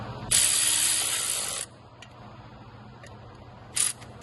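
A ratchet spins in a long continuous burst of fast clicks, tightening 10 mm bolts on a 2007 Chevy Trailblazer SS water pump and fan clutch job, then stops, with one short second ratchet burst near the end.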